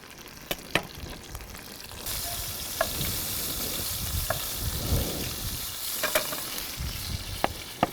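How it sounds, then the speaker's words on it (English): Anchovy fillets frying in oil in a pan, a steady sizzle that swells partway through, with occasional sharp utensil clicks and stirring, close up with no talking. "4 anchovy fillets with the oil going in. They're gonna melt and get all delicious and shit, yeah?"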